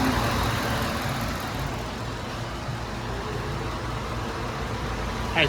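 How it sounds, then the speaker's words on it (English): A Ford F-150 runs with its engine on and the AC compressor clutch engaged and spinning, giving a steady, fairly loud mechanical hum and rumble that holds even throughout, with a brief bump at the very end. "AC clutch is spinning."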